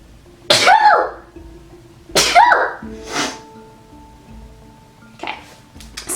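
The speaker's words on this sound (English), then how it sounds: "I'm gonna sneeze." A person sneezes close by indoors: two loud, sharp sneezes a couple of seconds apart, followed by quieter sniffles and small rustles.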